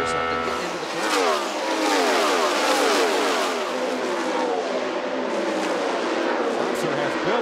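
IndyCar race cars at Texas Motor Speedway in the 1998 True Value 500, a loud high-revving engine scream sweeping in pitch as a car lifts and corners, with commentary talking over it.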